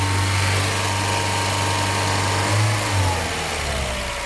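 A Peugeot 204 engine with a throttle that tends to stick runs steadily close by and revs up briefly twice in the later part, with no talk over it.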